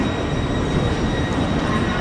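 Train at Zurich Hauptbahnhof station, a steady, loud rumble of rolling stock filling the station with a faint high whine above it, continuous and without speech.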